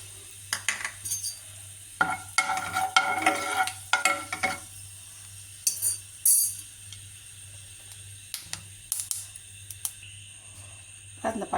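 Cinnamon and fennel seeds frying in oil in a pan, a soft steady sizzle with repeated scraping stirs and utensil clinks close by, with occasional talk.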